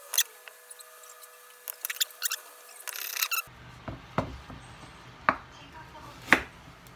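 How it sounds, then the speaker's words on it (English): Carrots peeled by hand in a home kitchen, giving close, irregular scraping and rubbing strokes with short pauses between passes. "Peel the carrots."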